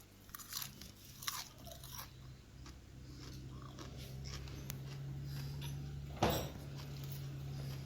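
Someone chews raw garden dandelion leaves close by, a series of faint crunchy bites at uneven intervals over a steady low hum and outdoor background noise.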